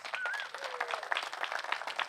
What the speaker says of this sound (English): Please give a warm round of applause for Riley Douglas.